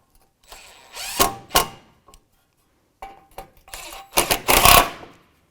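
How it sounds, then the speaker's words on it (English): A ratchet with a 10mm socket works bolts during a radiator job on a 2004-2009 Subaru Outback, giving close, rapid clicking bursts in short runs separated by pauses, the last burst loudest. "That's a 10mm socket."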